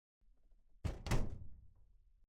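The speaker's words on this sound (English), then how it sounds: "that was me slamming a filing cabinet closed" A metal filing cabinet slammed shut: faint handling rustle, then one loud, heavy metallic thunk with a second impact close behind, decaying briefly, nearby and alone.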